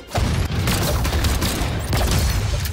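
Rapid gunfire bursts and impacts from the Brawlhalla fighting game, loud and continuous with dense low booms and sharp repeated cracks across the clip.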